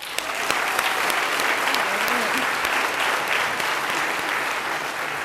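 Sustained audience applause fills a 2019 high school commencement ceremony, a dense even roar of many hands clapping, with a brief voice murmuring beneath it partway through.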